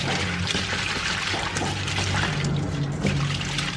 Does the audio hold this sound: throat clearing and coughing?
no